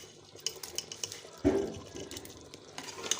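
Mutton matar keema stir-fried in a pan, with scattered scraping and clinking of a spoon, a brief burst of hissing sizzle in the middle, and soft frying underneath.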